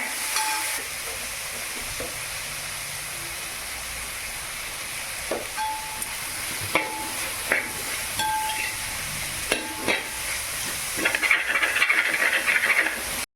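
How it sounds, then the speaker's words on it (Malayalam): Onions sautéing with salt in a pan for a chicken curry, a steady low sizzle with occasional stirring scrapes and clinks, growing a bit louder and busier near the end. "അപ്പോൾ നമ്മുടെ സവോളയൊക്കെ നന്നായിട്ട് വഴന്ന് വന്നിട്ടുണ്ട് കേട്ടോ."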